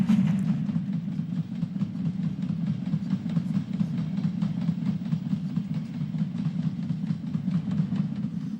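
A Midland Railway 4F steam locomotive train running on the Midland main line north of Cheltenham, a steady low rumble with faint rhythmic wheel clatter heard close and continuous throughout.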